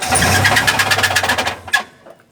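A 2012 Suzuki Carry Futura 1.5 starter cranks the engine in a fast rhythmic churn for about a second and a half, then cuts off with a brief clunk; the car fails to start.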